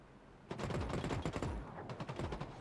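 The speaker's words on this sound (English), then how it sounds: "Yeah, I hear gunfire." Rapid bursts of gunfire in the shooter game The Cycle: Frontier, two loud volleys of close automatic fire with a short pause between them.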